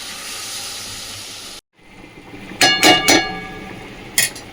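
Water poured into hot, oil-released spice masala for a Bengali tangra fish curry, giving a sudden loud hissing steam burst after a brief silence, then several strong sizzling surges and a final short flare.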